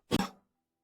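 One short, sharp cough, close and fairly loud, followed by silence.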